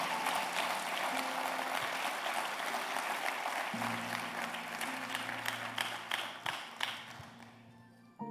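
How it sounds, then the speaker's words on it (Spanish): A church congregation applauding strongly, steady dense clapping that thins into scattered claps toward the end, with a low sustained musical tone entering midway. "Si usted lo cree, den un aplauso fuerte a Jesús"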